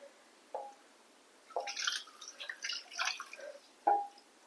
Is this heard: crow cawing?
no